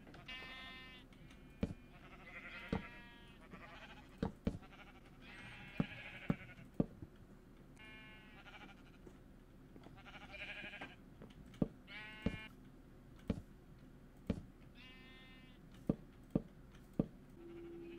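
Sheep in Minecraft bleat repeatedly at a quiet level, scattered calls overlapping with sharp clicking taps from gameplay.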